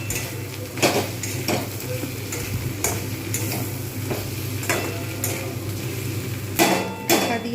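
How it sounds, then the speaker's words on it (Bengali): Fish-oil fritters with potato and eggplant fry in a pan with a continuous hiss, broken by repeated sharp clinks and scrapes of a utensil stirring at an uneven rhythm. "দিয়ে দিলে তাহলে আরও ভালো ভালোভাবে ভাজা হয়ে যাবে"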